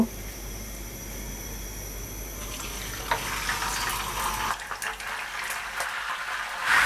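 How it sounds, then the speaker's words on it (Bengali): Chicken pieces hitting a pan of hot oil, about a cup of it, giving a close, steady sizzle and hiss, with a brief burst partway through and no talk. "চিকেনগুলোকে ভেজে নেওয়ার জন্য চুলা আমি একটা প্যানে 1 কাপ মতো তেল দিয়ে তেলটাকে গরম করে নিয়েছি।"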